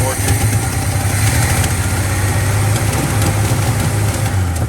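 A 1979 Chevy C-10 pickup's engine, run after eight years sitting in a tow lot and missing, rumbles loud and close in a steady, uneven drone with no clear rise in pitch.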